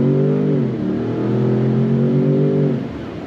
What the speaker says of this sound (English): So definitely has plenty of pep with that EcoBoost V6 pumping out 440 horsepower